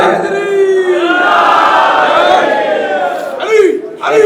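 A crowd at a Shia Azadari mourning gathering in Hainsi, Ghazipur, chants a salawat slogan together. Many loud voices rise and fall as one sustained call, then break into short shouted bursts near the end.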